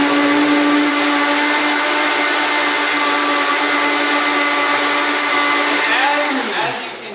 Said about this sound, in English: it takes a pretty high-speed blender for this to work out the best